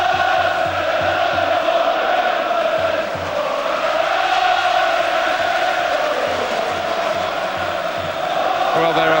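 Football crowd at a 1993/94 Premier League match between Manchester United and Coventry City, a dense, steady roar of applause and cheering from a large stadium, continuous throughout, with no distinct voice over it.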